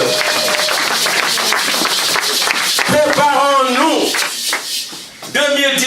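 Church congregation clapping and cheering in praise, a steady dense patter of many hands near and loud, joined by sung or shouted voices that rise in waves over the applause.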